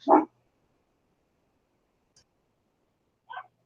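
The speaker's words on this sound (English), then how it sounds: "My wife's home, so the dogs are going to go nuts." Two short, distant dog barks separated by a long quiet gap, with near silence around them.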